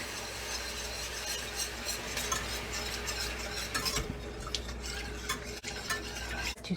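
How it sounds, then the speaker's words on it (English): Flour and milk are stirred constantly in a pan for a vintage potatoes au gratin sauce, making a steady, close scraping and swishing that runs without a break, with faint clicks from the utensil against the pan. "To stir constantly and let the mixture come to a boil."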